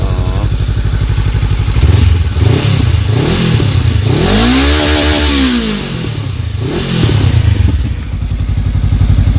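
A Honda CB500X motorcycle with a modified exhaust revs up and down several times, loud and close, its exhaust note rising and falling with a clattery rumble.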